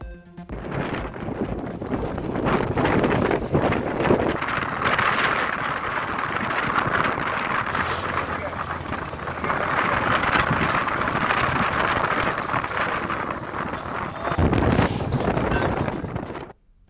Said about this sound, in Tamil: வங்கக்கடலில் நிலவும் குறைந்த காற்றழுத்த தாழ்வு நிலையால் சூறைக்காற்று வீசி வருவதால் சீற்றத்துடன் காணப்படும் கடல்.